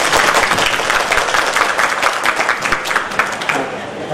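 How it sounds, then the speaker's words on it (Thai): Applause for a doctor speaker at a national mental health week event at Srithanya Hospital in Thailand, a loud, sustained crowd clapping throughout. "เราขอเสียงปรบมือแรงๆให้คุณหมออีกครั้งนึงครับ"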